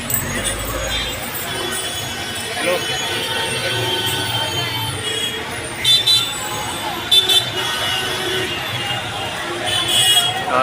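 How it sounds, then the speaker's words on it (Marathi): Heavy Sunday road traffic near a gate in a crowded area during the Navratri festival, a steady roar of engines with short car horn toots breaking through, and people talking over it. "इकडे ट्रॅफिक भरपूर झालेला गर्दी असणार"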